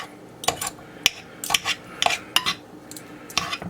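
Metal utensils scrape and clink against a pan while pulling apart cooked shredded beef for tacos, a series of sharp irregular clinks and rubbing scrapes at close range, with no talk.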